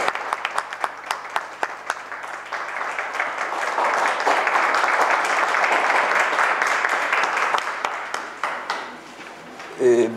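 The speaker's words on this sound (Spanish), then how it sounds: "un fuerte aplauso" An audience at a world citizens' convention presentation gives strong applause, a dense wash of clapping that swells and holds for several seconds before thinning into scattered claps, with a voice briefly at the end.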